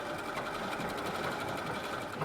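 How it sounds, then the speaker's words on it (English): A sewing machine runs steadily, stitching a French seam on fabric sewn inside out, its fast even needle chatter close and quiet, continuous throughout with no voices. "this is going to be a French seam, which is why I'm sewing it apparently inside out"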